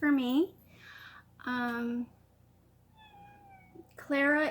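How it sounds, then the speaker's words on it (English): A pet cat named Clara meows three times in quick succession, chatty and close, with drawn-out, rising-and-falling calls, and a faint high tone in one of the short pauses. "It's a different meow than normal"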